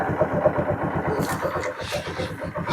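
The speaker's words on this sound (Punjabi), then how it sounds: "motorcycle start" A motorcycle, just given an engine oil and oil filter change, runs close by with a rapid, even low putter that briefly dips and recovers, while some faint higher noise drifts above it.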